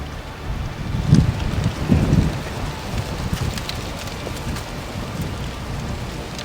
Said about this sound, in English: Then the wind started to pick up, which made this even more difficult.